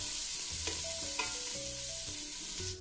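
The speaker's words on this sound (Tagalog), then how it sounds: "At inix natin ang ating sibuyas. Gisahin ulit, haluin." Onions and garlic sauté in a pan under a steady sizzle while a utensil stirs with occasional scrapes and clinks; faint tonal hum runs underneath, and the sound drops off at the end.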